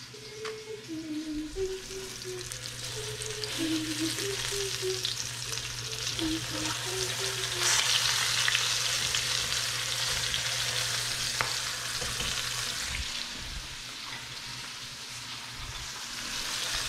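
Cabbage sears in a hot pan with a steady, broad sizzle across the whole stretch, a low hum underneath and faint tonal sounds early on, with no talking.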